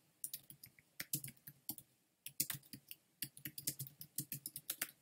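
A comment being typed on a computer keyboard, with bursts of crisp, close key clicks in quick uneven runs and a brief pause midway.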